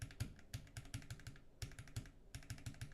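Quick bursts of typing on a computer keyboard, close and fairly quiet, with clustered clacking keystrokes separated by short pauses and no talking.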